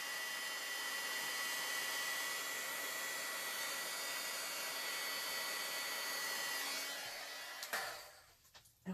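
A heat tool blows a steady, loud whirring hiss over embossing powder for about seven seconds, then clicks off, leaving quiet with a couple of small knocks.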